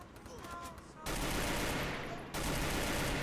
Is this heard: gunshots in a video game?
yes